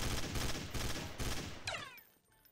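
Gunfire in Garry's Mod Trouble in Terrorist Town: several loud, close bursts of rapid automatic shots in quick succession, then a fading tail and quiet.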